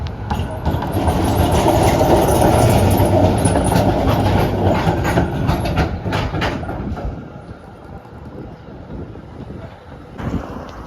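A Z3 class tram on Route 67 rumbles past loudly and close, with wind buffeting the microphone, then the noise eases away into quieter background.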